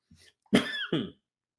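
A person coughs once in a quiet room, a short throaty lead-in followed by two sharp, close hacking bursts, then silence.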